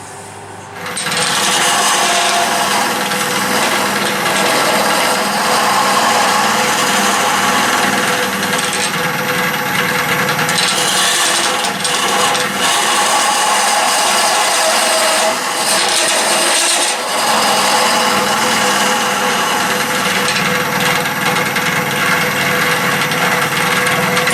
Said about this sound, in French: Donc là je prends une gouge à creuser.